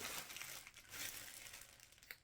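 Plastic packaging crinkling and crushing close by, a soft, continuous rustle with irregular crackles, fairly quiet and with no talk over it.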